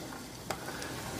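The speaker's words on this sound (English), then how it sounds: "Start to hear a slight sizzle, we know it's ready." Squash pieces hit hot oil in a pan, a soft steady crackling sizzle with a small pop partway through, close but quiet.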